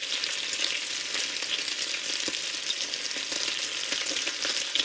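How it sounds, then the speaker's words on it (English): Food fries steadily in hot oil, a loud, continuous crackling sizzle with scattered pops and no voices. "if that sizzling sound made your mouth water, you are in the right place"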